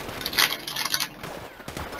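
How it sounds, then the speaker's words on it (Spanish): A short, rapid burst of distant gunfire from a video game, several quick cracking shots in a row, fairly faint, with no one speaking. "Escucho disparos, Creo que están entrando"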